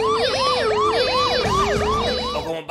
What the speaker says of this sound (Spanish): ¿Puedes sonar la sirena?